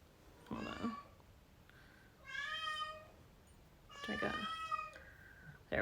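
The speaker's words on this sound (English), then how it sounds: "I hear my cat." A pet cat meows indoors, three drawn-out, clear meows with short pauses between them, fairly close and alone against a quiet room.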